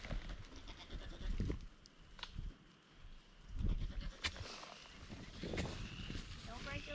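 Goats in a farm pasture bleat in short bursts, some close and some further off, while a person talks to them and hooves shuffle nearby.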